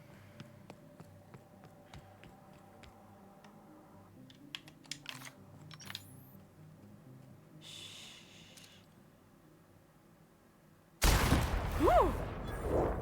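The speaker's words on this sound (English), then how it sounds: "My typing is awful today." Computer keyboard keys clack in scattered bursts, close and fairly quiet, followed by a sudden loud burst of noise near the end.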